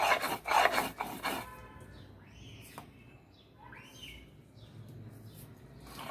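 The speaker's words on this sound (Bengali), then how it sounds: "বেশ মিহি করে বেটে নিচ্ছি।" Gourd leaf paste is ground finely on a grinding stone with a few quick, rough rubbing strokes at the start, followed by quieter moments with birds chirping in the background.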